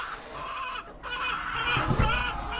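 Backyard chickens cluck in a close, busy chorus, with a few sharper calls rising over the steady flock noise.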